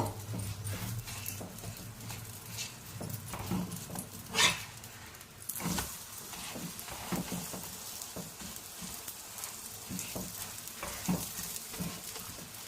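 Maida parotta frying in oil on a hot pan gives a soft, steady sizzle with scattered crackles and a few sharper pops and scrapes, fairly quiet throughout.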